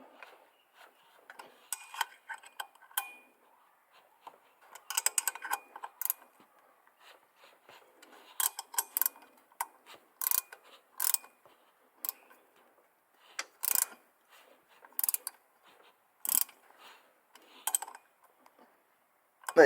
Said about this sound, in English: So we'll tighten up all 4 bolts, keep going around